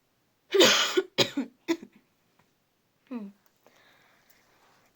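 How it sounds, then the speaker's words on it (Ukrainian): Three sharp coughs in quick succession, close and fairly loud, followed by a brief voiced sound and faint rustling. "це вже переходить у кашель"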